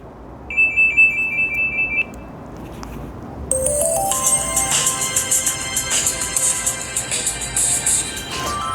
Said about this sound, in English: I think the iconic Nokia ringtone is just way good.